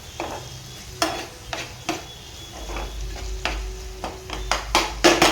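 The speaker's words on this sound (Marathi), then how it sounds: "एकदा परत हे मिक्स करून घेते" Prawn fry sizzles steadily in a pan while it is stirred, with repeated scraping clinks of a spoon against the pan at an irregular rhythm, close and clear.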